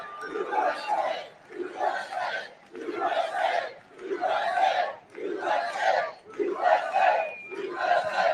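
A large crowd at a Trump rally in Freeland chants in unison, with rhythmic roaring waves about once per second that are loud and sustained, and no separate speech.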